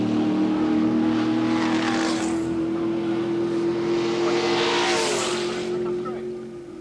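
Drag racing car launching and roaring down the strip at Santa Pod, a loud sustained engine drone with rising whooshing sweeps as it passes, steady and close throughout.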